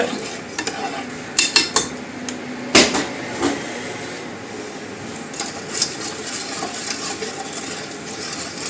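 Fruit syrup stirred in a pot as it comes to a boil, with scattered clinks and scrapes of a utensil against the pot over a low background hiss and no speech.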